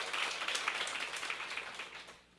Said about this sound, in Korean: 사회자를 위해서 박수